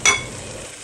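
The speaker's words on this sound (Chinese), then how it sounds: "油热啦，倒入锅里面，慢慢的翻动，摊均匀，摊平整" Seaweed and egg batter meets hot oil in a wok with a sharp initial splash and hiss that quickly settles into a soft, even sizzle, brief and close.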